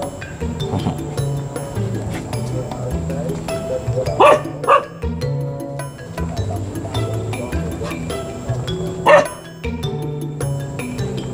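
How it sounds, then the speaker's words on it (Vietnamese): A dog barks in a few short, sharp bursts, moderately close, at a shrine in rural Vietnam, with people talking and steady background noise between the barks. "Sợ chó lắm nha"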